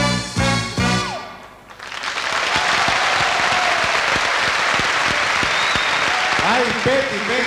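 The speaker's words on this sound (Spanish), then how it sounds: "¡Fuerte el aplauso para ella!" Enthusiastic applause for a performer at the 1980 Teletón telethon, opening with the end of music, then a dense wash of clapping from a large audience that holds steady with voices mixed in.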